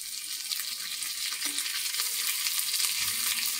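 Urad dal, red chilli and curry leaves sizzling in hot oil, a steady bright crackle of frying throughout, fairly quiet and with no voices.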